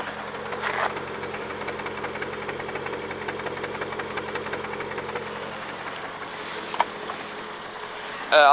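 A Triumph Herald 13/60 engine runs at a steady idle with a fast, even mechanical ticking and knocking that holds close and moderately loud, with a brief bump near the end.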